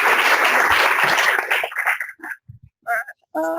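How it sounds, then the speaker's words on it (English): Audience applause at a research institute's conference day, a dense wash of clapping that thins out and dies away after about two seconds, followed by scattered voices and a few isolated sounds. "more applause."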